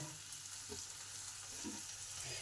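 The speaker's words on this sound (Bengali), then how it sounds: "এবার সমস্ত মশলা আর টমেটো ভালো করে একটু ভেজে নেব" Spices and chopped tomato fry in a pan for Bengali begun basanti, a soft, steady sizzle with faint stirring scrapes, quiet and close with no talking.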